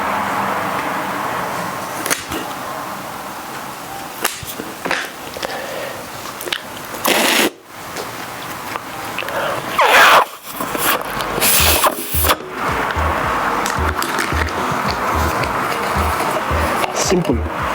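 A plastic household waste container having its top cut off to make a children's drum, with continuous close scraping, crunching and snipping, grinding strokes over a steady background, with a few abrupt pauses.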